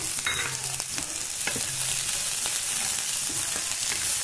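Chopped vegetables and green peas fry in a pan with a soft continuous sizzle, broken by repeated scraping strokes of a spoon stirring them.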